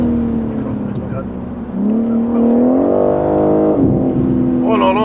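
A car on the Nürburgring track drops a gear, the engine note dipping and then rising in a loud, close, sustained drone that climbs in pitch before settling again.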